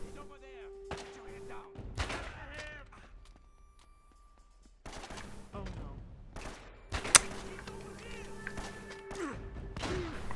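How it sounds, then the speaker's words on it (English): Gunfire in the action game Uncharted comes as scattered sharp shots and bursts, loud and near, separated by quieter gaps, with a person talking between them. "Shoot the guy upstairs."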